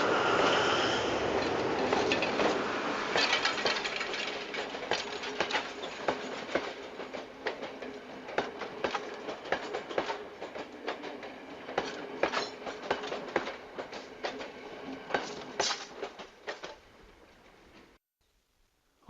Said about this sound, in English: we hit this special tourist train like Maharaja Express in India